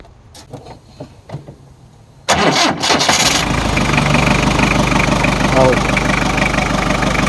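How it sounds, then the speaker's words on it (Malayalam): An Ambassador car engine, modified, cranks briefly and catches, then settles into a steady, loud idle that runs to the end, with quiet speech before it starts. "ഒന്ന് സ്റ്റാർട്ടാക്കാം ജസ്റ്റ് സൗണ്ട് നോക്കാം കേട്ടോ"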